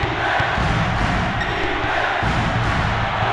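Loud, continuous arena crowd roar in the NCAA March Madness 2001 basketball video game on PlayStation, a thick wall of cheering and yelling with occasional thumps underneath.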